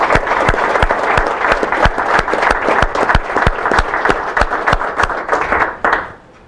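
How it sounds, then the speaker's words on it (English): Audience applause greeting a sponsor at an announcement for the Great Lakes Offshore Grand Prix in Dunkirk, loud and close with sharp individual claps standing out, sustained for about six seconds before cutting off abruptly. "so a round of applause for Rich Nassar"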